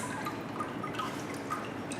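Water drains through the screen of a papermaking mold and deckle, a dense, steady patter of many small drips falling close by with no talk.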